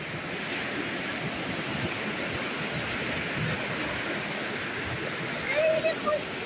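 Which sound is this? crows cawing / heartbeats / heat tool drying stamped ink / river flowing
river flowing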